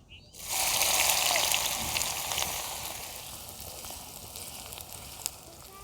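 Chopped onions hit hot oil already tempered with mustard seeds and cumin for puri bhaji, bursting into a loud, close sizzle that slowly settles into a softer frying hiss, with one small pop near the end.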